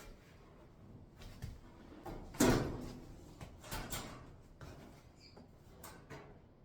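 Kenmore 500 clothes dryer door being handled and refitted during a belt repair, giving a series of soft knocks and clunks with one louder thump in the middle, all fairly close with no talking.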